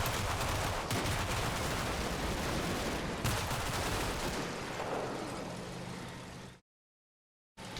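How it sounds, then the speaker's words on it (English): Dense gunfire in the WWII strategy game Combat Mission: Battle for Normandy, a German panzer regiment advancing, with a steady wash of rapid shots and engine rumble that cuts out abruptly near the end. "Someone's starting to shoot him."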